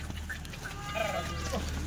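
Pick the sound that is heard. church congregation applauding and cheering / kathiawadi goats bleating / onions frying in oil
kathiawadi goats bleating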